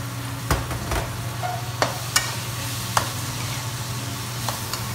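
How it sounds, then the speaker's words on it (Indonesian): Shallots, garlic, bird's eye chilies and large chilies sauté in a pan for sambal ijo, a steady sizzle with a low hum beneath and a few sharp clinks of a spatula stirring, no voices. "Tumis dulu sampai harum"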